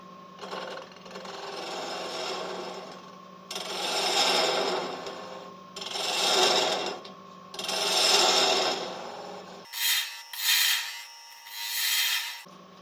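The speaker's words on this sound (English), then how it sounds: "Next is I'm going to cut out a mortise for my candle to fit. Spindle gouge." A spindle gouge cuts a mortise into wood for a Halloween ghost craft. Repeated scraping, rasping strokes come in about six bursts, close and moderately loud, with short pauses between them.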